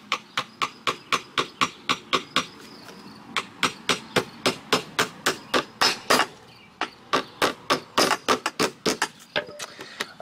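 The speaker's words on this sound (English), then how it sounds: "I'm just nailing it every 16 inches with these little siding nails" Small siding nails hammered into deck ledger flashing, a long series of sharp, evenly spaced hammer blows at close range, grouped in runs with short pauses between.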